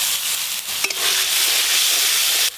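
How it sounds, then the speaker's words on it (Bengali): Turmeric, ginger, cumin and dried red chilli paste fry in a pan with a little water, giving a loud, steady close-up hiss and sizzle with a brief stirring clink partway through. "অল্প একটু জল দিয়ে মশলাটা আর একটু ভালো করে কষে নেব।"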